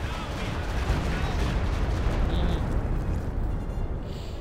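Stuka rocket barrage in the World War II strategy game Company of Heroes 2: a dense, continuous roar of overlapping explosions and rumbling artillery fire, loud and sustained from start to finish.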